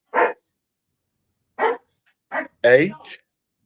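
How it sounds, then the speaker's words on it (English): A dog barks in four separate sharp bursts, close and fairly loud against an otherwise silent background, the last bark longer and more strained. "Excuse me, it's my dog."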